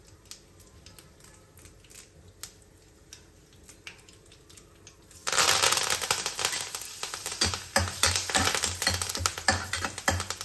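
Asafoetida and curry leaves dropped into a hot tempering oil with sesame seeds, shifting from quiet scattered taps to a sudden loud, dense sizzle and crackle that continues close up.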